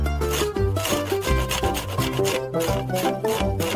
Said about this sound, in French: Et sur le dessus, elle frotte du fromage.